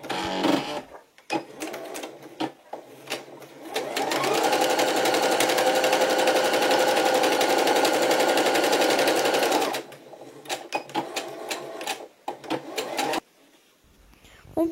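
A sewing machine stitches a jacket pocket flap onto its lining, running in a loud, steady rapid chatter for about six seconds, with shorter bursts and handling clicks before and after.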